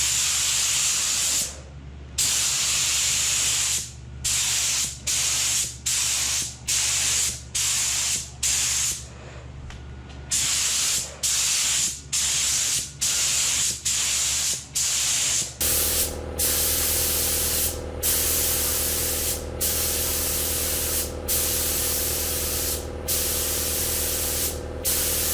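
A spray gun paints in a home garage with long, loud hissing bursts, each broken by short pauses in a fairly regular rhythm. Partway through, a steady low compressor hum joins in beneath the spraying.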